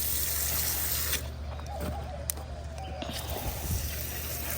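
Water pouring from a garden watering bottle onto plants and soil, a steady splashing rush that eases partway through into lighter trickling and dribbles.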